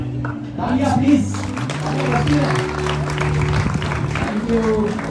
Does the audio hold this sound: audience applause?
yes